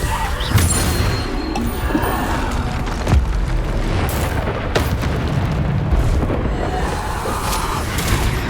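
Spell blasts from Hogwarts Legacy combat, including Bombarda, land as several loud booming explosions and crashes at irregular intervals over a dense rumbling background.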